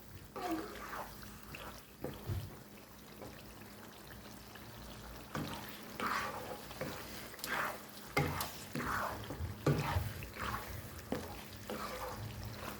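Chili flakes and Kashmiri red chili fry in oil for chicken karahi, giving a faint, steady sizzle broken by irregular scraping and stirring strokes. Nobody is talking.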